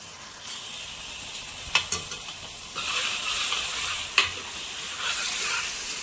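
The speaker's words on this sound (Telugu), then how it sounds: "కాస్తంత సాల్ట్ చక్కగా ఇది కలిసేటట్టుగా తిప్పేద్దాం" Tomato pieces seasoned with turmeric and salt are stirred in a sizzling pan for an egg-tomato curry, a steady frying hiss punctuated by several sharp scrapes and taps of a spoon against the pan.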